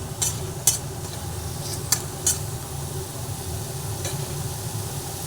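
Steady sizzling from a hot pan where sesame seeds were just fried, with a few sharp scraping stirs, and a louder hiss as water hits the oil; no voices.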